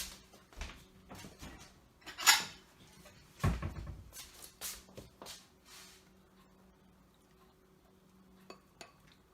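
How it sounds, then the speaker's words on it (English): A ladle and a bowl clink and knock while lettuce soup is being served, with scattered sharp metal and ceramic taps, a few louder strikes and then quieter handling, close by with no talk. "Here's the ladle and a bowl."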